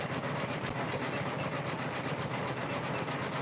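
A Janome M17 embroidery machine stitches butterflies onto a quilt block with a continuous fast, even mechanical whirring and a steady pulsing stitch rhythm, close and constant throughout.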